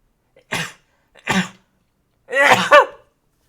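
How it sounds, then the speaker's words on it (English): Two short sharp bursts of breath, then a louder, drawn-out sneeze, all very close and isolated against silence. "now I'm gonna sneeze"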